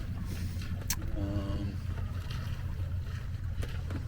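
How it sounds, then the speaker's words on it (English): Wind and water noise aboard a sailboat tacking across a bay in Maine, a steady rushing roar with hull wash and a few brief knocks, no talk. "And the wind is building a little bit, as predicted, so that part is right."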